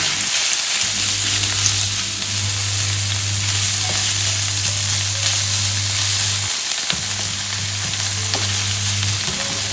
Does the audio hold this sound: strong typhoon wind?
no